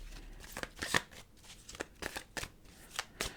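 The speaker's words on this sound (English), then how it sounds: "Okay, let's go to the cards." Tarot cards being shuffled by hand, a run of quick papery riffles and flutters in uneven bursts, close and fairly quiet, with no talk.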